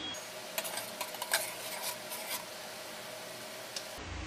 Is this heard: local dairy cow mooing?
no